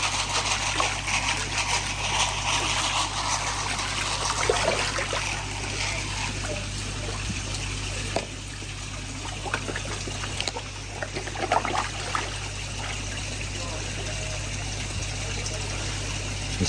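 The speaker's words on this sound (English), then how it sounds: "as soon as the bottom drain goes off and the skimmer comes on" Garden koi pond with a bottom drain and skimmer pump running, giving a steady low mechanical hum under a continuous wash of trickling, splashing water, with faint voices in the background.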